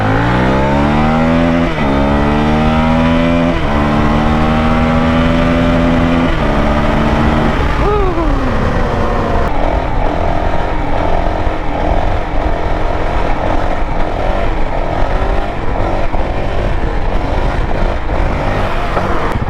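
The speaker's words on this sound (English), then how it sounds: "we're gonna get a quick acceleration test before we put that new ECU on" Stock-ECU 2023 Honda CRF450X dirt bike accelerating hard from about 30 mph, engine note climbing through several rising gear pulls before settling into a steady loud drone with wind rush, close and continuous.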